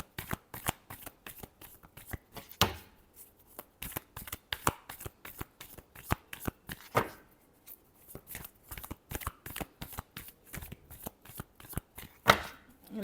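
Tarot cards being shuffled by hand, a steady run of crisp riffling flutters and soft slaps repeating throughout, close and fairly loud with no talking.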